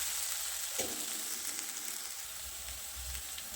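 Ginger and chili paste frying in hot oil for vada pav sandwich masala, a steady close hiss with soft crackles throughout, no voices.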